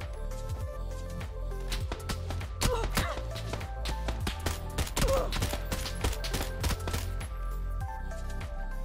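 QBU designated marksman rifle shots in PUBG, a steady run of sharp, loud single cracks at irregular, fairly quick intervals over a constant low background rumble.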